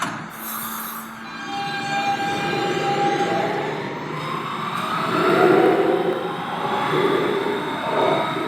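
A New York subway train moves through Whitehall Street-South Ferry station, its wheels squealing and screeching as it rolls, with a short high tone at the start and a rumbling, swelling roar that stays loud throughout, no voices.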